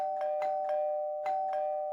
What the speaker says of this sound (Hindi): बेल बजा चल जल्दी